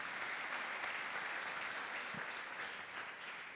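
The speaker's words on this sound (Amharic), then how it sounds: "አጨብጭቡና ሸኙዋት" Church congregation applauding together after a prayer and blessing, a steady, dense wash of clapping that holds at even loudness throughout with no voices on top.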